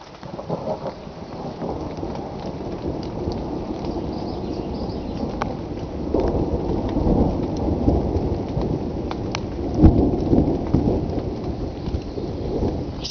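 Steady rain pours through a thunderstorm while low thunder rumbles and swells, with one sharper, louder clap near the end; nobody talks.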